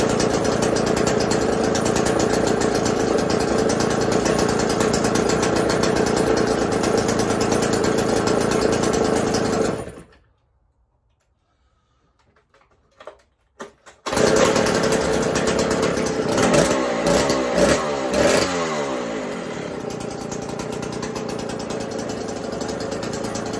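A Stihl 07S chainsaw with a restricted muffler runs loud and close at a steady, rough drone. It cuts out for a few seconds, sputters back to life, revs up sharply several times and then settles into idle.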